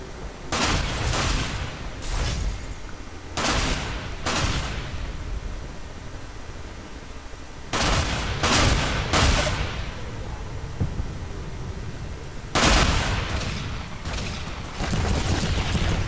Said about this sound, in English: Now here I'm firing down a long hallway, through a room, across the street into the little bar, pub, diner thing